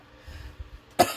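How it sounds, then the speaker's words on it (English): A single sharp cough bursts out near the end after a quiet room with faint low rumbling, close to the microphone and not covered by any talk. "I'm sorry for the cough."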